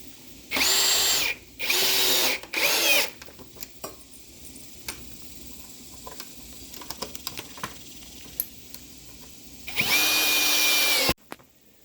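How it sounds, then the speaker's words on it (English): Three short bursts of a power drill driving screws, whirring near while assembling a Hampton Bay Woodford patio set, then quiet clicks and handling noise, and one longer drill run before it stops. "And I did use a drill,"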